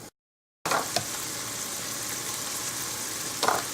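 Onions sautéing in a pot for potato leek soup, a steady close sizzle after a brief silent start, with a couple of stirring scrapes, no voices.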